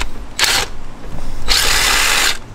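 Impact gun on a starter motor bolt of an Acura TL, firing two loud close bursts, a short one then a longer sustained rattling whir, with no talk.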